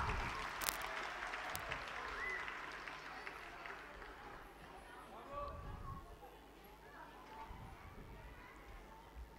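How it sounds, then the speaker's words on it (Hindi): A school event audience at an evening annual show gives a long round of applause, moderately loud and fairly distant, with a few sharp nearby claps early on and murmuring voices mixed underneath as it gradually thins out. "फिर जोरदार तालियां"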